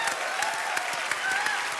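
Dense, enthusiastic applause from a TV show studio audience fills the whole moment, steady clapping with no break.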